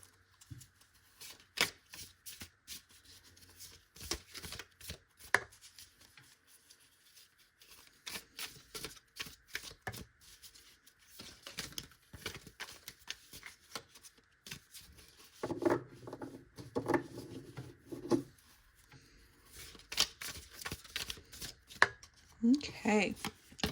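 Cards from a Citadel Oracle deck are shuffled in repeated quick riffling and slapping bursts, soft and close, with occasional brief talk and pauses between handfuls.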